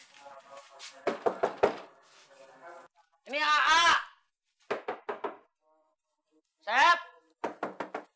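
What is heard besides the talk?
knocking on a door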